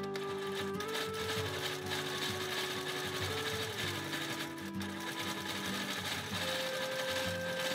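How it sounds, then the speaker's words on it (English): A quilting sewing machine, with its removable head, stitching steadily in a small home sewing space, giving a continuous fast mechanical whir with slight shifts in pitch, close and quiet, and no talking. "This quilting machine is truly wonderful, especially for smaller sewing spaces like mine."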